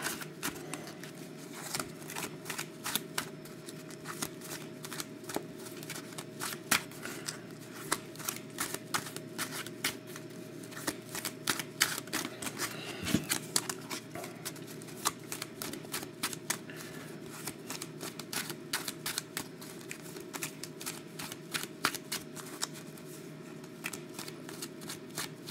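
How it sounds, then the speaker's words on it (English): Cards are shuffled over and over, a continuous run of quick riffling clicks and soft slaps at close range, with no talking. "keep shuffling"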